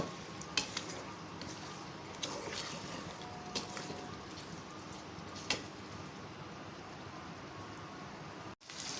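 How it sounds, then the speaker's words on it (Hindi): Potatoes frying with rice for aloo pulao in a pan, a quiet steady sizzle with occasional stirring clicks and scrapes, fairly faint and without talk. "इसको भुनाई करें अच्छी तरह से आलूओं के साथ।"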